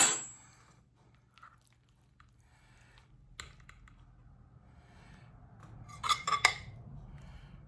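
Utensils scrape and clink against a dish while cutting into a crunchy-crusted peach cobbler, a few soft taps followed by a cluster of sharper metallic clicks near the end, close and quiet.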